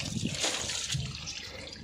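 Water sprayed over a motorcycle during washing on a farm, a close, hissing, splashing spray running throughout with uneven bursts.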